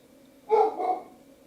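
A single short bark from a dog named Cash, fairly faint and close, over a quiet indoor background with no talking.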